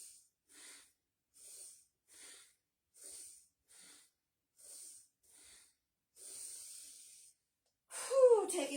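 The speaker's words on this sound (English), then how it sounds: "Go back to your circular breathing." Rhythmic nasal breathing during a circular breathing exercise of deep belly breaths through the nose, about ten short airy hissing breaths in an even pulse, close and quiet, ending with a louder exhale and a voice.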